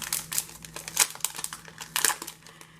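Thin plastic envelopes from a Happy Planner mini haul crinkle and crackle close up in quick, irregular bursts, with no talking.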